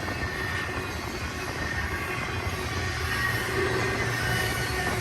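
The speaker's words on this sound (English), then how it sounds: "sound of the train hum going a little bit higher pitch as it picks up a little bit more speed." A BNSF high-priority intermodal freight train climbs eastbound toward Cajon Summit on the main track, making a loud, continuous rumbling hum that fills the whole stretch without a break.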